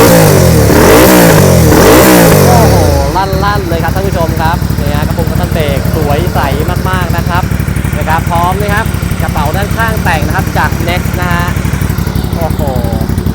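Ducati Scrambler 400 motorcycle from 2016 with an aftermarket Black Series exhaust, first revving loudly in deep sweeping blips for about three seconds, then settling into a steady rumbling idle with a voice talking over it.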